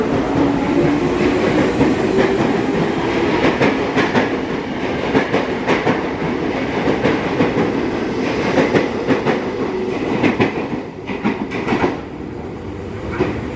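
A former Tokyo Metro 5000-series electric commuter train departs in Indonesia, rolling loudly past up close, wheels clacking over rail joints in a steady rhythm with metallic squeals and rumble throughout.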